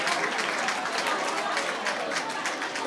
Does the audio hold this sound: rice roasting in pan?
no